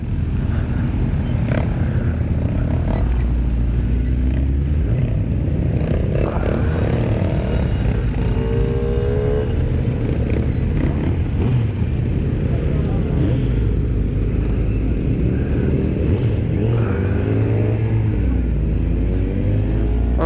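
A motorcycle engine hums and revs through busy French city traffic on the way to the 2017 motorcycle show, with passing cars rumbling nearby and a rider talking over the steady drone.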